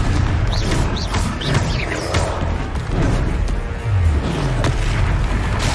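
A fiery Confringo spell blast erupts during a Hogwarts Legacy duel, a loud, booming explosion layered over dense, continuous battle noise with deep rumbling thuds throughout.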